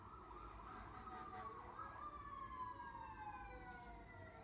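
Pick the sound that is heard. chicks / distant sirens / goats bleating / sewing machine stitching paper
distant sirens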